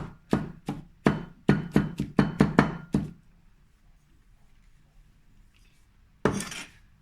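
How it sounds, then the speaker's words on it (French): A cleaver chops garlic on a cutting board in about a dozen quick, sharp knocks over three seconds, then near silence before one last scraping thunk, all close and clear with no talking. "Faut faire attention aux doigts, mais c'est parfait pour hacher mon ail."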